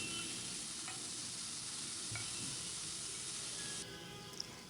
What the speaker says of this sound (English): then we will add our desiccated onion, garlic and ginger. And saute it up until it becomes translucent.